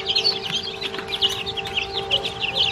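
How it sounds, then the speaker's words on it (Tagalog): Rhode Island Red chickens cluck and chirp steadily in a busy flock, their bright overlapping calls coming close and continuous against a low steady hum, with no talking. "Rhode Island red po ito lahat."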